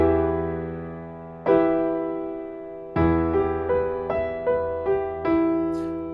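Piano arpeggio over a low E root note with its lower octave in the left hand: a deep bass note, then several rippling broken-chord notes above it, clear and close with no talking.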